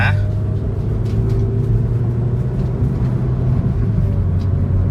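Engine of a 2001 Honda Civic Dimension with automatic transmission revs as the accelerator is pressed, a loud, steady low rumble that holds throughout.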